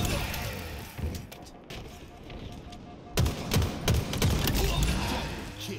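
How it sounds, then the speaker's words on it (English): Rapid bursts of gunfire and sharp impact cracks in the video game Halo Infinite, loud and close, clustered in quick volleys over game ambience, with players talking over the fighting. "One's shooting me from pink two."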